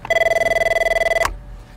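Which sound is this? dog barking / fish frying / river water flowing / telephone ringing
telephone ringing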